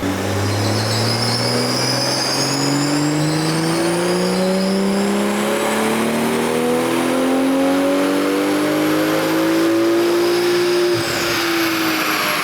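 A BMW M340i with a B58 engine, tuned with a JB4 at 30 PSI boost, pulls hard on a dyno. The loud engine note climbs steadily in pitch across a long wide-open run, close and continuous, and the turbo whine carries over the top.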